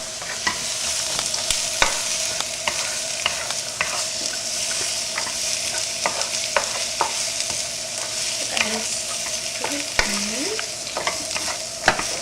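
Onions cooking in a pan toward translucence give a steady, close sizzle and frying hiss, broken by scattered stirring clicks and scrapes, with no talk.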